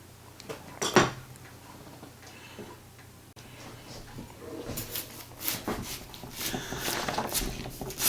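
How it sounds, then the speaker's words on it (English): A chef knife slices peppers and other vegetables on a cutting board, producing scattered sharp taps and clicks, sparse at first and then more frequent and busier toward the end. "this short video shows my wife sitting in a wheelchair cutting vegetables"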